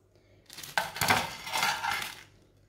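Fried bread and potato snacks being set onto a plate, with a couple of seconds of clattering, clinking contact against the dish, close and clear with no talk.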